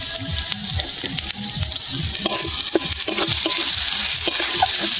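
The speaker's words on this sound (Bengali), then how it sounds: "ভালো করে নেড়ে চেড়ে দেবো।" Spices and turmeric sizzle and fry in a pan over a low flame while being stirred for an egg curry, a continuous bright crackle with soft scraping strokes of the spoon throughout, close and steady, no talking.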